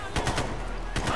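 Grenade launcher fire in an online shooter video game: a few loud, punchy booming shots in quick succession, then a pause and another burst near the end.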